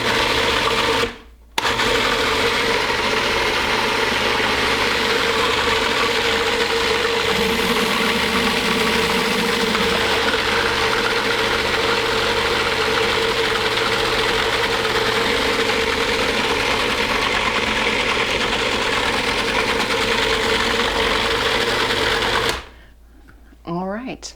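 Food processor blending chickpeas for hummus, a loud, steady motor drone broken by one brief pause near the start and stopping near the end.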